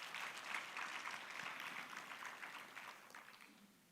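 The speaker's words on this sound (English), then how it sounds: "let's give another round of applause" Faint, distant applause from a conference audience, a steady wash of many hands clapping together that holds evenly and then tapers slightly toward the end.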